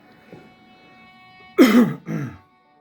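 A single throat-clearing cough, fairly close and short, followed by a second smaller cough in an otherwise quiet room.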